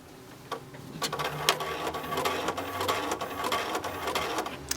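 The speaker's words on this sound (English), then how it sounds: "Terminal goes through a cycle. It takes about 30 seconds for it to power up." First Data Eclipse credit card terminal powering up, giving a faint mechanical whirring and clicking with printer-like bursts, quiet and close.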